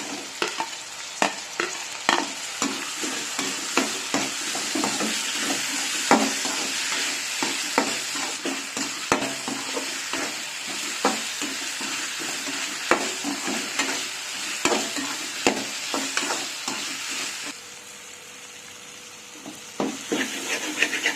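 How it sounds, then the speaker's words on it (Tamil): Onions and tomatoes fry in a pan for a Tamil cumin kulambu, with a continuous sizzle broken by repeated scraping stirs. Close and steady, the frying briefly quiets near the end. "நல்லா வதங்கிடுச்சு வெங்காயம் தக்காளி."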